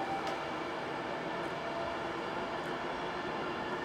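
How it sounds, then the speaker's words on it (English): A train passing nearby, a steady broad rumble and rush of rail noise holding at even loudness throughout, with no voices over it. "wait for the train goes by"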